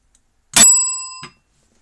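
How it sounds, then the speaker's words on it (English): A bell is struck once, a sharp bright ding that rings out and slowly decays, followed by a soft clunk as it settles. "Ring the bell."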